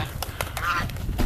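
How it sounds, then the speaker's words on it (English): A flock of about seventeen geese, let outdoors for the first time this year on a northern Manitoba farm, gives short honks in quick succession against outdoor background noise. "First day we're letting the geese out this year, they're going absolutely loving it."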